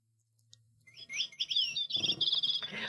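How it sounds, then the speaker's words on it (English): Small bird chirping and tweeting in a quick, bright run that starts faintly and grows louder and busier, heard alone without talk. "Waiting for the bird."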